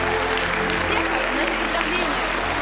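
An audience claps at the opening of a book presentation, a dense, even burst of applause held steady for a few seconds under a light voice.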